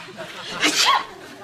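A single quick sneeze, moderately loud and fairly close, rises briefly out of a quiet room.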